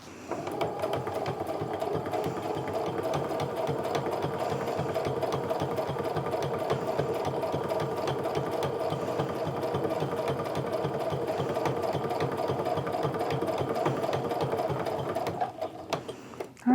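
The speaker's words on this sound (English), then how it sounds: "I'm just going to start sewing, making sure that that guide stays in line with this folded pleat the entire way down" A sewing machine runs steadily for the whole stretch, stitching down a folded pleat on a pleated wristlet, with a continuous loud mechanical whir and a fast rhythmic needle chatter that stops near the end.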